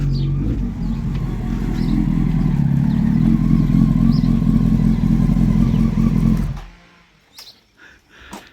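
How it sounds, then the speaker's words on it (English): A motorcycle passes along a street, its low engine drone holding steady and loud, then cutting away abruptly toward the end, followed by faint scattered clatter, with no voices. "I've just heard a bike come down the street."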